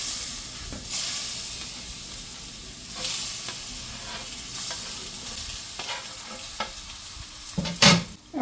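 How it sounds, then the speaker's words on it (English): Plantains frying in hot oil in a pan give a steady close crackling sizzle and hiss, with intermittent louder stirring scrapes and spatters throughout. "we have our oil heated up. We're going to go ahead and add the plantains"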